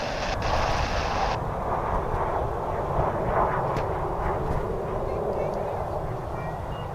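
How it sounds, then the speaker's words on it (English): An American Airlines Airbus A319 arriving at DFW airport, its jet engines giving a steady, loud broadband rumble and roar throughout, with a brief higher hiss early on. "Here's an A319. It's American Airlines Flight 2343"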